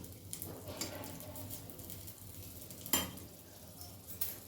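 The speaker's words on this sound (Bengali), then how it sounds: "ফোড়নটা একটু নেড়ে নিচ্ছি কয়েক সেকেন্ড" Bay leaf, a dried red chili and nigella seeds fry in hot oil while being stirred, a soft, close sizzle with a few light scrapes and one sharp clink, no talking.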